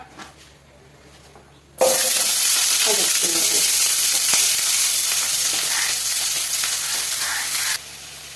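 Onion dropped into hot coconut oil bursts into a loud, close hiss and crackle after a quiet start, sizzling steadily for several seconds before easing down.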